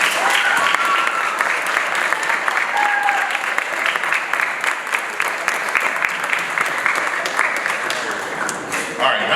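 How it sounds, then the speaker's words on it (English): A large audience applauds loudly and steadily throughout, dense clapping filling the room without pause. "give a big round of applause as loud as you can"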